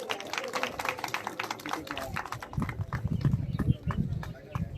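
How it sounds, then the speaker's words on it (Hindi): Loud clapping from a crowd at an outdoor political rally welcoming independent candidate Rajendra Thakur in Manju, dense and continuous, with voices over it. "जोरदार ताली हो जाए।"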